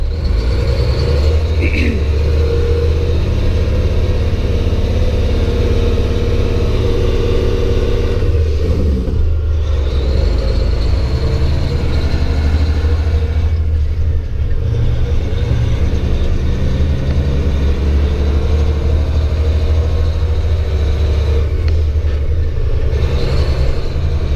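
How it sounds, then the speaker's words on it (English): A heavy Western Star dump truck engine rumbles steadily from inside the cab, a constant low drone with slight shifts in pitch as it drives. "This is our main dump truck."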